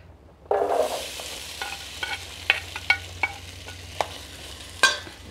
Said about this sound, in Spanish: voy a poner una cucharada de manteca para freír las papas